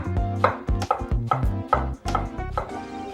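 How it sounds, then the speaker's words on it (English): A knife chops Chinese eggplant into half moons on a cutting board, with repeated sharp, close thuds in a steady, slightly uneven rhythm and no talking. "let's chop some veggies. I'm gonna start off with some Chinese eggplant."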